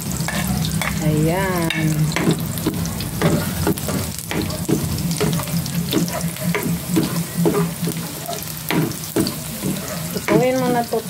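Garlic sizzles in oil in a pan for squid adobo, with a steady close crackle broken by repeated scraping stirs of a utensil; a voice speaks briefly over the cooking.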